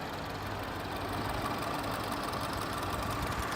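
A 2016 BMW X1 xDrive28i M Sport engine idles smoothly after a cold start, a steady, moderately quiet hum with faint ticking texture, heard up close and without any voices.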